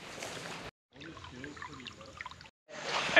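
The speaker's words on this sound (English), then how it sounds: "Actually got a waterfall on it." Water rushing and trickling down a waterfall beside an off-road motorcycle racing track at Cherrabah, heard as a steady mid-distance flow broken by short gaps.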